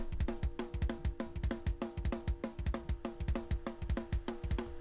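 Distorted drum bus from a St. Anger mix: a driving, steady beat of punchy kick and snare hits with ringing overtones, loud and alone, repeating evenly.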